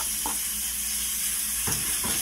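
Meat sizzles loudly in a pot with garlic, a steady, close frying hiss that runs throughout, with a few brief clinks or stirring knocks of a utensil and no talk.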